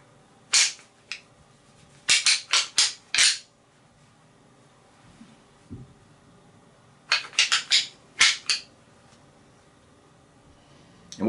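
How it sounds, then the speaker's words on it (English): Deer antlers rattled and clashed together to draw in bucks near standing corn: two loud, close bursts of sharp clicking clacks, each a quick run of hits separated by a few seconds of quiet. "what you're trying to do is just replicate 2 bucks putting their antlers together, and then twisting their heads"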